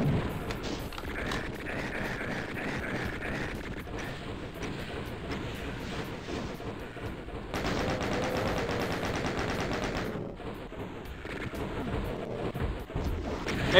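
Monsters trading gunfire in the game Doom II, with rapid, sustained machine-gun-like bursts and booming shots crowding a loud, busy game soundtrack.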